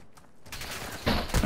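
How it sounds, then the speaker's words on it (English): Gunfire in Call of Duty: Modern Warfare II, a short burst of shots starting after a brief quiet moment and growing louder, with a couple of sharp cracks near the end. "They were shooting."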